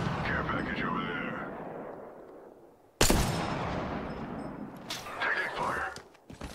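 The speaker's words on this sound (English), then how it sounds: "Taking fire." Gunfire in the battle royale game Apex Legends, a sharp loud shot cracking out midway with echoing tails and scattered further shots, amid ongoing game noise and voice callouts.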